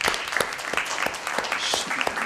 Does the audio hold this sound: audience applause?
yes